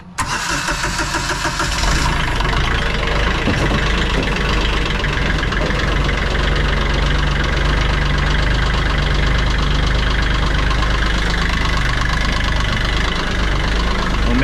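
UTV engine cranking and catching just after an oil, oil filter and fuel filter change, then settling into a loud, steady, rough idle heard close up.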